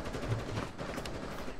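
Shotgun fire in Rainbow Six Siege, a few quick muffled booms at moderate distance over busy game ambience, fairly quiet overall.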